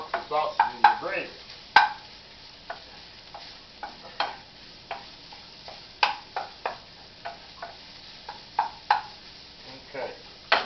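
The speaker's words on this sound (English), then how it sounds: "Make sure that sausage all broke up good, because you don't want no big hunks of sausage in your gravy" Sausage being stirred and broken up in a frying pan for biscuits-and-sausage gravy, a steady faint sizzle under repeated scraping, tapping utensil strokes at irregular intervals, with someone speaking intermittently nearby.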